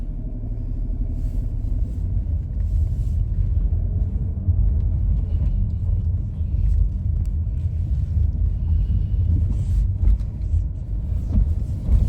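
A Ford Kuga ST Line X Edition drives on the road, giving a steady low cabin rumble of engine and tyre noise heard from inside, continuous and without talking.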